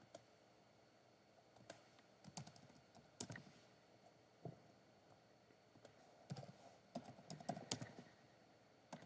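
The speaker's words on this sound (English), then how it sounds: "You hear that keyboard? Typing away on that keyboard?" Computer keyboard typing in a room, with bursts of clicks and keystrokes coming in irregular clusters. The sound is fairly faint and distant against a low background hiss, and no one speaks.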